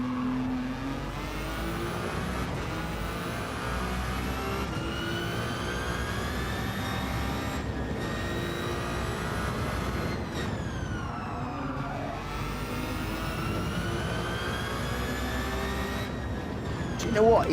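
Ferrari race car in Gran Turismo 7 with its engine revving, a steady high-pitched whine holding and shifting pitch across gear changes, loud and continuous with brief dips between shifts.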